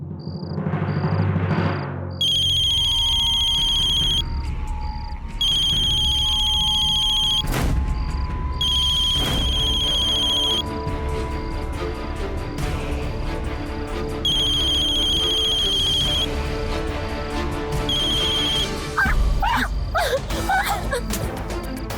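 A telephone rings in repeated electronic trills, loud and close, with short gaps between bursts and a thud and some clatter near the middle.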